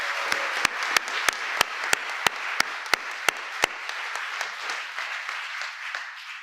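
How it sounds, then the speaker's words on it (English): An audience at a Labor Day event honoring labor unions applauds, with a dense bed of clapping under a run of sharp, evenly spaced loud claps near the front that stop after a few seconds while the crowd noise fades. "So we should give them a round of applause"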